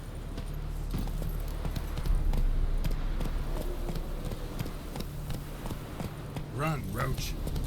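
The horse Roach galloping in The Witcher 3, a steady run of hoofbeats under game music and ambience, with a voice speaking briefly over it.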